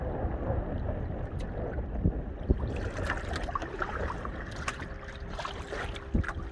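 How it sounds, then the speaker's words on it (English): A boat on Lake Alexandrina heard from a canoe: a low, steady rumble that carries on throughout, with a faint engine tone emerging later, under soft wind and water lapping, fairly quiet and distant. "I can hear a boat."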